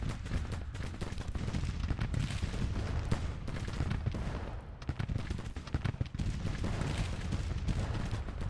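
Dense, continuous Civil War battle gunfire and artillery from the Grand Tactician video game, with volleys of rifle fire and booming cannon rolling without pause at steady high loudness.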